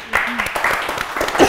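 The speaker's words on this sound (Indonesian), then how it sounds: "Sekali lagi tepuk tangan buat Tio Jogru" An audience clapping for Tio Jogru, a short burst of applause heard under someone speaking over it, moderately loud and fairly close.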